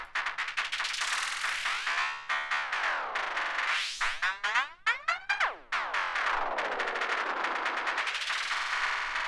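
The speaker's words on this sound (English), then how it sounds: "when I'm gonna modulate manually the time, you're gonna hear this kind of pitch" Industrial techno percussion made in Ableton, dense metallic hits whose pitch sweeps up and down as the delay time is modulated by hand, with flanger-like comb sweeps and stuttering bursts near the middle, loud and continuous.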